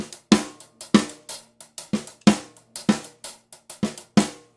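Drum ghost notes played too loudly with a downward wrist motion, coming out as a steady run of sharp snare hits in an even groove, close and loud with no talking.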